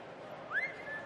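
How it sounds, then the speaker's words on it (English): A single person whistles a short, innocent-sounding rising tune, the bright tone sliding upward then holding steady, alone over a faint room hum. "Whistle to sound innocent."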